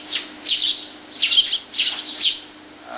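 Sparrow chirps sounding alone and fairly close in a quiet setting, several short bright bursts of tweets coming in irregular clusters with brief pauses between them.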